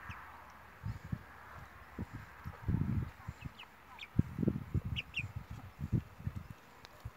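Ducks quacking in an outdoor poultry yard beside a chicken coop, a run of irregular low nasal calls at moderate distance with short pauses and a few faint higher bird chirps overhead.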